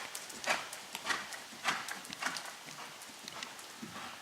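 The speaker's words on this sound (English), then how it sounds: "It's a really good canter for her." Horse cantering in a riding arena, a steady three-beat rhythm of soft hoof thuds on footing, fairly faint and moderately distant, with no voices over it.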